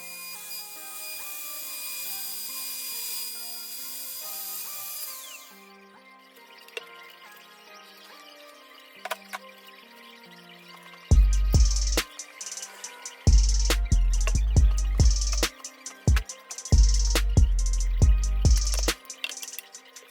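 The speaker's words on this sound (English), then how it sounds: "I make one complete turn with the router, then I plunge it deeper and make another complete turn." Plunge router cutting a round hole through a wooden cornhole board, starting as a steady high whine, then after a quiet gap a series of loud, repeated bursts of cutting noise as the bit bites deeper.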